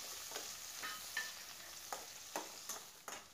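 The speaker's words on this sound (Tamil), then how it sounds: "சேர்த்து அதையும் கொஞ்சம் வதக்கி விட்டுறலாம்" Small onions and tomato sautéing in oil for idli sambar, a faint hiss with scattered light spatula taps and scrapes, quiet and with no voices.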